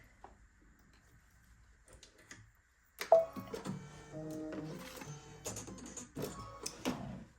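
An embroidery machine stitches a Merry Christmas design in red thread. After a near-silent start, it sets up a quiet, busy run of ticking and mechanical whirring that continues to the end.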